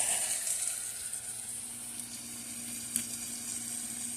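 Tomatoes cook down in a pan with a steady, soft sizzle that carries on unbroken, with no voices.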